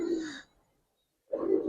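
Giribaz pigeons give two short, close cooing calls separated by a brief silence, each a soft, throaty burst standing alone.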